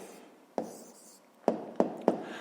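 A pen writes an answer to a fifth-grade maths exercise, with four distinct taps and strokes against paper, close and fairly quiet, without talk.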